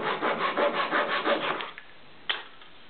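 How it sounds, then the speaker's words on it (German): A Japanese pull saw cuts wood in a workbench sawing guide, making quick rhythmic rasping strokes that stop after about two seconds, followed by a single sharp knock. "egal ob ich jetzt mit einer deutschen Feinsäge arbeite oder auch mit der japanischen Säge, die ja auf Zug"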